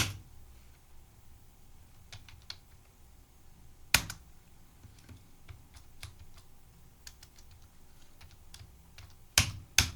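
Sparse keystrokes on a computer keyboard during data entry in TallyPrime accounting software: scattered light clicks, with a few louder presses near the start and end, over a quiet room hum and no talk.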